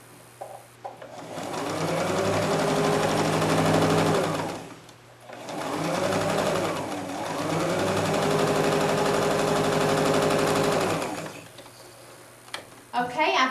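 A sewing machine stitches together pieces of a beginner rail fence quilt in two long, loud, continuous runs separated by a short slowdown and pause, with a few clicks at the end.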